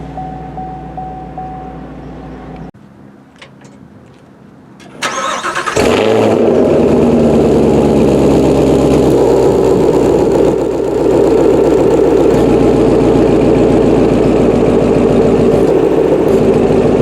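A 2016 Chevy Camaro 2SS Convertible engine cranks and catches with a sharp roar, then settles into a loud, steady, rumbling idle close by, with no talk over it.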